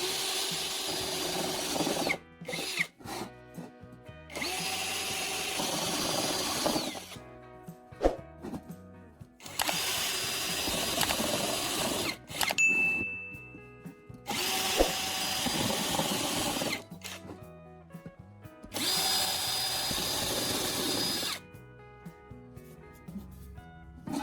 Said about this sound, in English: I'm using a step drill bit to create multiple holes along both marked circles